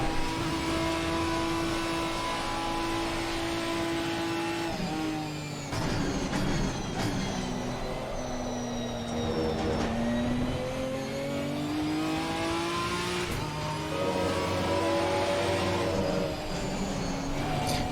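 A GT4 race car in Assetto Corsa Competizione drones through its gears, engine pitch rising under acceleration and dropping sharply at upshifts and braking, steady and loud with no talk.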